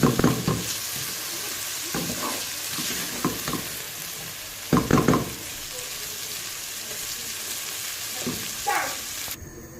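Okra masala frying in a pan, a constant close sizzle broken by several rhythmic bursts of a spoon scraping and stirring, with no one talking.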